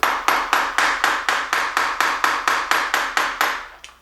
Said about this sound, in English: We'll take hammer and just tap around to make sure